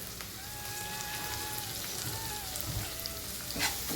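Onions sautéing with asafoetida in a pan, a steady close sizzle with soft crackles throughout, a faint tonal whine running above it.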